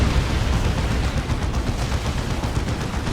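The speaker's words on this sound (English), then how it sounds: "Good Demolisher Cannon shot there on the Nob Squad." A Demolisher Cannon firing in a Warhammer 40,000: Dawn of War 2 battle between Imperial Guard and Orks, a dense, loud rumbling barrage of heavy blasts and gunfire filling the whole moment.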